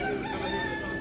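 A rooster crows in a drawn-out call over a steady background hum at a bird and pet market in Makkah, Saudi Arabia, fairly close and moderately loud.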